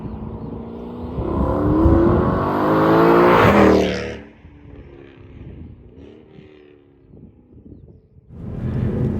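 A performance car engine revs hard and loud, climbing steadily through the rev range for about four seconds before dropping back to a lower, rougher drone, then surging again at the end.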